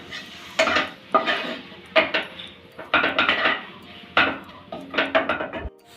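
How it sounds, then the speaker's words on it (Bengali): Ground spices, including garam masala, being stirred and fried in a pan for fish chop: repeated scraping and clattering strokes of a spoon against the metal pan, close and fairly loud, in irregular bursts with a faint sizzle between. "ভালো করে নেড়ে ছেড়ে মশলার সাথে এই গুঁড়ো মশলাগুলো ভেজে নিচ্ছি।"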